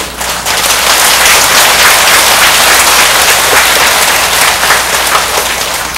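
An audience at a Buddhist sermon for Buddha's Birthday bursts into loud, dense applause that holds steady for several seconds with no talking over it.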